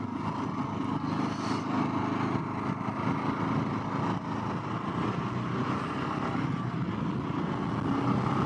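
A Kawasaki KLR650 dual-sport motorcycle engine drones steadily and fairly loud as it rides up a ramp off-road, with a rough, continuous rumble throughout.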